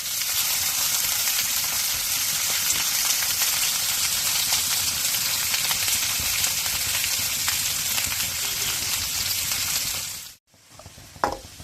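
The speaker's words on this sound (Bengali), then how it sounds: "রসুন, কাঁচামরিচ, রসুন কুচি, কিছুক্ষণ নেড়ে চেড়ে ভেজে নিব" Chopped garlic and green chillies sizzle loudly and steadily in hot oil for several seconds, with faint stirring, before the sound cuts off and a few brief clinks follow.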